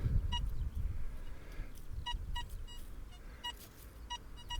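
Short high electronic beeps from a Deus II metal detector sound in an irregular series over low wind rumble, fairly faint and nearby, in a muddy sheep field.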